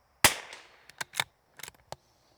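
A single sharp shot from a CZ 457 rimfire rifle rings out clearly near the start, followed by a short decay and a few faint clicks and handling sounds, with no talking.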